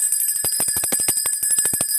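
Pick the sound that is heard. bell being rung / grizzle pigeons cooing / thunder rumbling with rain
bell being rung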